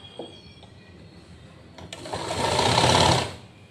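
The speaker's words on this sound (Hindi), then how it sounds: "और इसकी सिलाई कर देना है" A sewing machine stitches a blouse, starting with a few faint clicks and then running in a loud, fast whir that lasts about a second before stopping.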